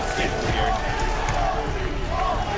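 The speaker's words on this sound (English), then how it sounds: "And the crowd now erupts for Walsh and the rest of" An arena crowd at a Halo esports match roars in a sustained, dense wall of cheering with a few thumping impacts and indistinct commentary underneath.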